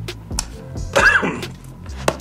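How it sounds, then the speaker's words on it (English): A single close cough with throat clearing from someone getting over a cold, preceded and followed by short breathy noises, loud and near. "Sorry about the cough."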